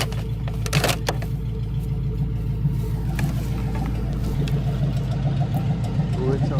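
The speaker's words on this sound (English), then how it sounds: "My truck just started making a different noise." A pickup truck engine idles with a steady low rumble and an uneven pulsing that suggests misfiring, with a few clicks and knocks near the start.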